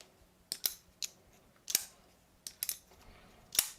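Quiet, sharp metallic clicks and snaps from a folding knife flicking open, some in quick pairs, spaced irregularly over a near-silent background.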